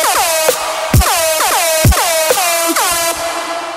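Loud, brassy synth lead from an electronic dance track in festival-trap style, blaring in repeated stabs with sliding, falling pitch bends every second or so, punched by deep hits, with no voices.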